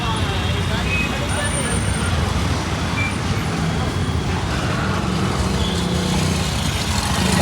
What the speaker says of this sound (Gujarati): ટ્રાફિકમાં હલવાઈ ગયા.